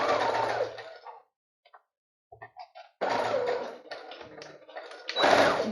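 A sewing machine stitches fabric in two close, steady runs of rapid whirring, broken by a pause with a few small clicks and taps as the work is adjusted.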